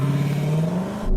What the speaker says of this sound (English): I'm just going to launch it. There is no launch control, I just floor the throttle.